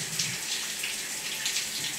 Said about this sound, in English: Because I can just turn on the shower head.